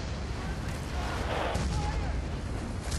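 Mortar strike explosions in a video game attack on Val Pariso, heavy booming blasts rolling continuously over dense gunfire-like battle noise with a sustained loud roar throughout.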